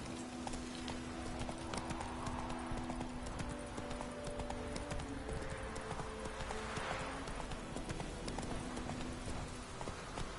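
Hoofbeats of Roach, the horse in The Witcher 3, clip-clop in a steady galloping rhythm throughout, fairly faint and alone.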